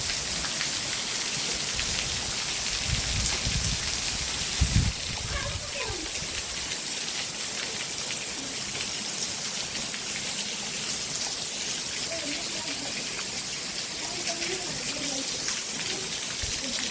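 Heavy rain pours down steadily on outdoor surfaces as a dense, continuous hiss, with a brief low rumble early on and faint voices in the background.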